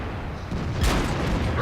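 A German Waffenträger tank destroyer in World of Tanks fires its gun once, a single heavy boom with a bright crack that rises out of a rumbling battlefield bed.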